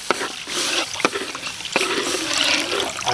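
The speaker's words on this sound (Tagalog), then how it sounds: "Kung makikita nyo, lalagyan natin ng tubig." Water poured into a pan of melted butter while making gravy for grilled pork ribs: a steady, close splashing and hissing pour that runs the whole time, with a few sharper splashes.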